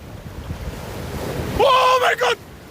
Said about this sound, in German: Oh, jetzt kommt eine Riesenwelle.